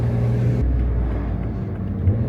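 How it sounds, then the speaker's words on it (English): Tuned, catless 600 hp BMW X3M with an S58 engine and rolling anti-lag gives a loud, continuous low engine drone with a shift in tone partway through, close and steady with no talking. "That's the only purpose for my rolling anti-lag on this car."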